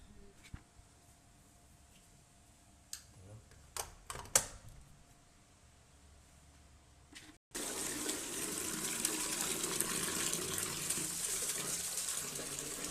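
Water pours steadily into a container for the last five seconds, a loud continuous rush that follows a quieter stretch of scattered knocks and clicks.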